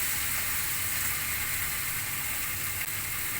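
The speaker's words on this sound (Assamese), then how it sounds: "এয়া মই আকৌ অলপ লৰাই দিছোঁ বেতগাজখিনি" Cane shoots (betgaj) sizzle and fry in a pan while being stirred, a steady close crackling hiss with a faint scraping rhythm, no voices.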